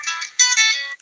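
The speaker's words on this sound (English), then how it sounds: "Sorry, that's my phone going." A mobile phone rings during a county council health scrutiny meeting, giving a single short burst of bright electronic ringtone notes that swell, hold for about a second, then cut off abruptly, heard alone without talk.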